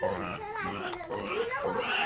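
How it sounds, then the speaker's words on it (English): A hungry pig on a farm at feeding time, grunting and squealing continuously up close. "pig wants to eat."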